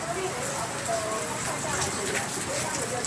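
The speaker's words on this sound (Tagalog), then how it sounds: "Maulan sa Taiwan ngayon." Steady rain falls in Taiwan, a dense even patter of drops with no pauses over the whole stretch.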